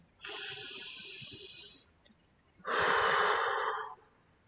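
Close and clear, a person takes one slow, deep inhale, pauses briefly, then lets out a longer, fuller exhale during a calm EFT tapping session.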